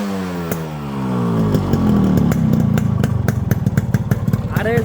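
A Yamaha RX 100 motorcycle engine winds up with a rising whine, then settles into a loud, close two-stroke putter with rapid, rhythmic pulses that grow sharper toward the end.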